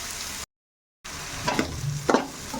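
Vegetable fried rice fries in a pan as it is stirred, a steady sizzle broken by a brief gap, then two louder scraping, tossing strokes near the end.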